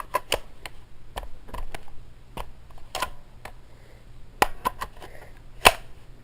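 Metal clicks and clacks as a magazine is worked into an AGM MP40 airsoft gun, a series of sharp, close taps and snaps spread irregularly, with one louder click near the end.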